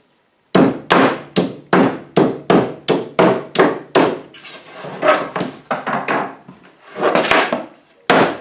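Pre-cut wooden gluing dowels being tapped into glued holes in a storage cabinet, a steady run of about ten loud, close wooden hammer blows, then softer irregular knocks and shuffling, no talking.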